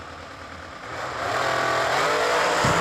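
Drag racing cars launch from the start line at a New Year Nationals meet, engines building from a rumble to a loud sustained roar that swells and holds to the end.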